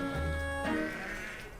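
Sheep on a flock farm raised for meat, one bleating loudly and close by in a single drawn-out call, with faint farm background around it.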